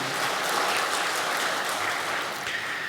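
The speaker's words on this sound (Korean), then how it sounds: "정말 하나님께 영광의 박수입니다" Congregation at a Friday late-night church revival service breaking into applause, a dense, continuous wash of clapping that stays loud and even throughout.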